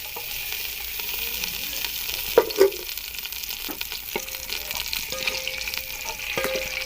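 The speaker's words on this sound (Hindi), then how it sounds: "घी हमारा गर्म हो चुका है। अब इसके अंदर डाल देते हैं प्याज।" Chopped onion sizzles in hot ghee in a pot for mutton pulao, a continuous close frying hiss broken by a few soft knocks and scrapes of stirring.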